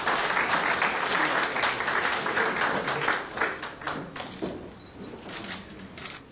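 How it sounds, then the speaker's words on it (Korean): Enthusiastic applause from a large crowd at a political party's nomination ceremony, loud and dense at first and then gradually fading, with a few voices mixed in. "큰 박수 부탁드립니다."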